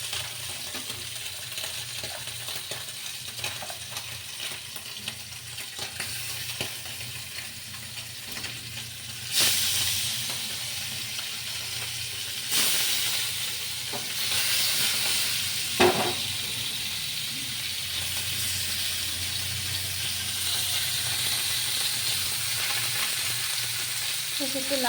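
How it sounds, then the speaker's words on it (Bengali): Fish pieces rubbed with turmeric and salt frying together and spattering, a close crackling sizzle that swells louder partway through, with a few sharp pops and clinks over a faint low hum. "একসাথে আমি ভেজে নিচ্ছি। মাছগুলো খুব ছিটে আসে"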